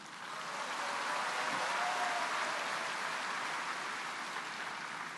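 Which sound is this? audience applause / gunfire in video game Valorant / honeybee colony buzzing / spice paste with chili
audience applause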